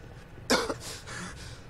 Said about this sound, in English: Oh, okay, you're suddenly coughing for some reason.